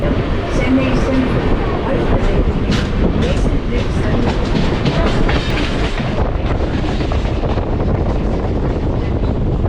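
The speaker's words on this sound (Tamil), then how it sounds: "இப்போ நீங்கள் பார்க்குற இந்த மில்க் பிக்கிஸ் ட்ரெயின் தான் வந்து நம்ம எம்ஜிஆர் சென்னை சென்ட்ரல்லேருந்து கோயம்புத்தூர் போகிறதுக்கு உண்டான வண்டிங்க." A passenger train runs on its rails near Chennai Central. It makes a steady, loud rumble with rhythmic clickety-clack and wind buffeting throughout, and it continues without a break.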